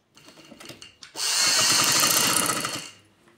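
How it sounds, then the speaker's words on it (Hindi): A sewing machine stitching fabric for a shalwar, a few soft clicks and then a loud, steady mechanical whir for about two seconds that winds down to quiet. "तो अब इसके ऊपर हम सिलाई लगा लेंगे।"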